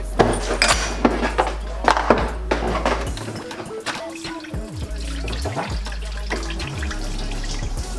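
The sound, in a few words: coolant draining out of a BMW E90 M3 water pump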